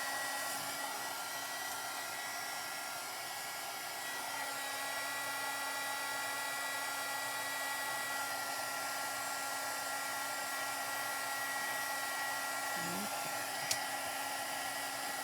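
A hair dryer blowing steadily to dry paint on a thrifted wooden chest, a continuous even whine and rush of air that holds close and unbroken from start to finish.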